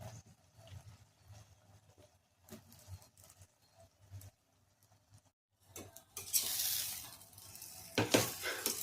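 Mushrooms frying in a pan for hotel-style mushroom biryani, a soft crackling sizzle that swells loud and bright in the last few seconds after quieter stirring and faint clatter.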